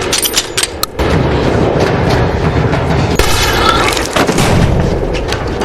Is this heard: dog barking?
no